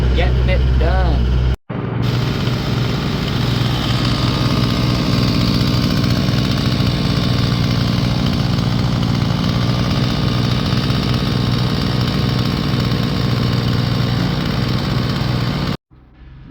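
A homemade redneck firewood processor's engine runs outdoors in light snow, a loud steady mechanical drone that holds for about fourteen seconds between two brief cutoffs, with a voice talking over it.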